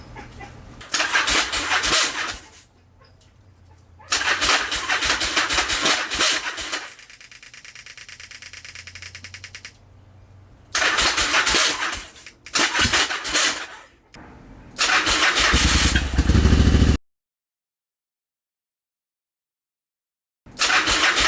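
An abandoned Yamaha XV1100 Virago motorcycle cranks in several bursts, then catches and settles into a rough idle before cutting out, with brief pauses of silence between the attempts.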